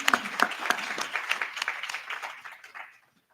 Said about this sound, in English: Let's give a round of applause for Amos